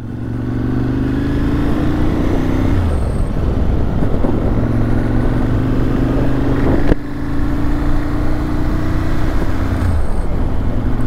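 A 2006 Ducati Monster S4RS engine idles steadily while warming up, a low, throbbing drone, occasionally blipping up slightly in pitch, close and continuous throughout.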